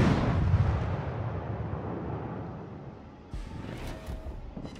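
Heavy naval gunfire from a warship in a naval battle video game, a deep rumbling boom at the start that slowly decays, then a second fainter burst with crackle near the end.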